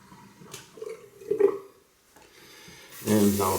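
Cold tap water runs briefly while a Rockwell 6S safety razor is rinsed, a soft splashing that swells into a louder gush at the end, with quiet talking over it.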